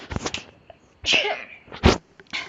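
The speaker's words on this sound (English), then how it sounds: "Sorry, I needed to sneeze." A single abrupt sneeze, with a few softer breathy sounds just before and after it, close to the microphone.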